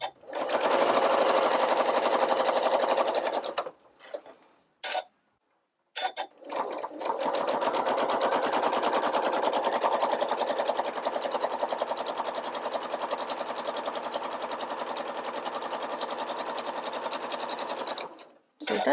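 A sewing machine stitches fabric for a quilt block in a fast, steady whir of needle strokes. It stops briefly twice, with a short silence, then runs on evenly for a long stretch up close.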